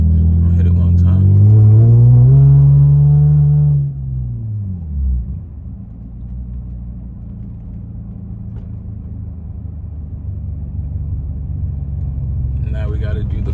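A Lexus GS300 with catless headers, a Megan midpipe and a Vibrant muffler on a single-exit exhaust revs hard and then drops back to a low, steady idle rumble, loud and close, with a brief second blip near the end.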